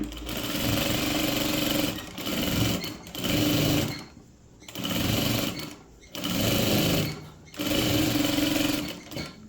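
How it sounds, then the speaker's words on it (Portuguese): Sewing machine stitching a strawberry-themed pet bandana, running in loud, close bursts of rapid mechanical whirring separated by brief pauses as the fabric is repositioned, with faint talk in the background. "Sempre que você parar, você levanta o calcador e vem costurando, né?"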